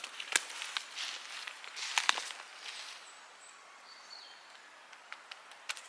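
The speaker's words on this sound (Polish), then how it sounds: "Ptaszka jak sobie puka w drzewo." A woodpecker pecks at a tree in quiet woodland, giving a few sparse, faint, sharp taps spread out at irregular intervals, with light rustling in between.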